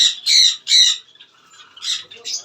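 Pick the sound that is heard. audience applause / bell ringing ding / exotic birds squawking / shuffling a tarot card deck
exotic birds squawking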